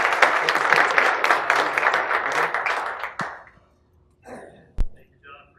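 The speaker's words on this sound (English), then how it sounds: "let's give Brad a round of applause" Audience giving a round of applause for a speaker at a sales forum, dense clapping for about three seconds that stops abruptly, followed by a few faint stray sounds and a single sharp knock.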